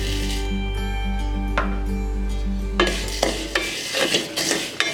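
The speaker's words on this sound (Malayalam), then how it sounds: "നമുക്ക് സേമിയ ഒന്ന് വറുത്തെടുക്കാം." Vermicelli roasting in ghee in a pan for jaggery semiya payasam, with steady scraping and stirring from a spoon, a low hum underneath, then busier clatter and sizzling scrapes toward the end.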